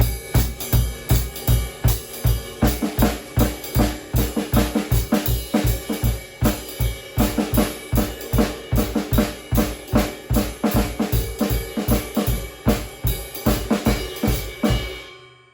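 A snare drum is struck rapidly and steadily in a rhythmic pattern tapping out a tune, loud and close, running continuously before stopping abruptly.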